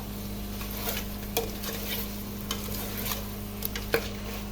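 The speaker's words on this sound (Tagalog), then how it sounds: "Ayan, haluin nga lang po ulit." Spare ribs stirred in a frying pan over steady sizzling, with scattered scrapes and clinks of a utensil against the pan, close up and with no talking.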